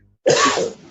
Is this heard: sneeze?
yes